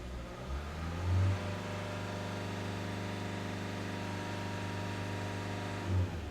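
A Mercedes-Benz Citan 109CDi diesel van with a differential pressure sensor fault cranks and fires, then settles into a steady, close, moderately loud idle with a brief rise in revs near the end.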